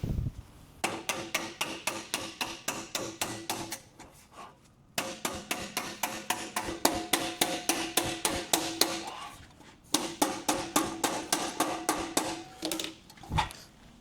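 A hammer pounds steel panel while car body metal is folded along a straight line for a Porsche 356 and 718 build, with rapid, loud, evenly spaced metallic blows that come in long runs separated by brief pauses.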